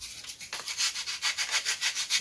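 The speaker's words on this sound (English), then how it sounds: "now I'm just going to sand the edge so to get the correct dihedral" Sandpaper rubbed in steady back-and-forth strokes along the edge of a small wood block for a glider, a rhythmic dry scratching repeating roughly every quarter second, close and fairly quiet, with no voices.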